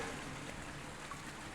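A toilet flushing, heard as a steady rushing wash of water that runs evenly for the whole short stretch, fairly close and moderately quiet, with no voices.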